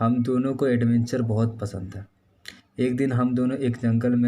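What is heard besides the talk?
None of the usual background noises is heard.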